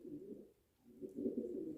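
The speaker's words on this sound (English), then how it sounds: "Well, that's a pigeon." Pigeons cooing in an abandoned asylum, a soft low murmur in two bursts separated by a short pause, faint and fairly close.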